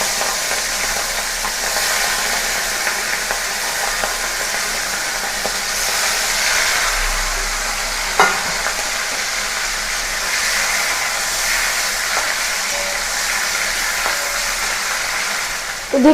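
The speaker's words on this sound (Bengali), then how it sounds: "চিংড়িগুলো আমার ভাজা হয়ে গেছে, হালকা করে ভেজে নিয়েছি" Prawns fry in hot oil with a steady, dense hiss that carries on for a long stretch, close and continuous, with a couple of faint clinks and no voices.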